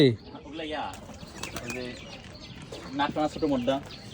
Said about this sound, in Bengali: আসলে বাড়ি ভাই এই কবুতর আরও আছে